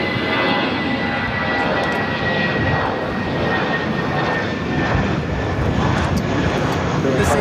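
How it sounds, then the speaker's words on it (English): Spirit Airlines Airbus A320 jet taking off at Los Angeles International Airport, a steady loud broadband engine roar that holds for the whole stretch with a slight swell, heard from nearby. "Spirit in the birthday cake livery. A320 now taking off."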